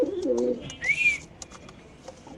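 Pigeons at a pigeon farm give a low, throaty coo up close, followed by a brief higher-pitched bird call, then soft scattered rustles in a quiet room.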